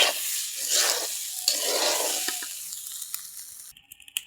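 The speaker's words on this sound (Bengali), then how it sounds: "এই তো চালগুলো ভাজা হয়েছে" Rice for khichuri sizzles as it is stirred and fried in a pan, with scraping strokes over a steady hiss that gradually fades, ending in a few sharp clinks.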